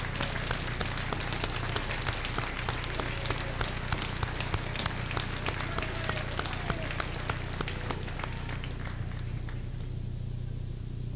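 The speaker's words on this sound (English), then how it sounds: "Let's give them a round of applause." Steady applause from a commencement audience at Moshannon Valley Jr. Sr. High School honoring graduates' parents: dense, continuous clapping throughout with a low hum beneath, thinning slightly toward the end.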